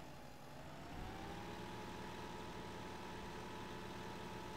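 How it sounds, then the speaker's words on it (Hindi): A tractor engine idles in Farming Simulator 16, giving a steady, even hum that stays level throughout with no voices over it. "भाई नवा ट्रैक्टर का साउंड ही अलग होता है ना।"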